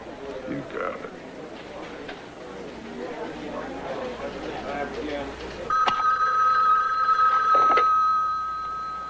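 A telephone rings in an office setting, a loud electric bell tone starting partway through and sustained after a stretch of murmured chatter and voices.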